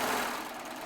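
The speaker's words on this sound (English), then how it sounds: "we got to keep on serging on" A serger overlock machine hums in a continuous close, even whir through a very brief moment.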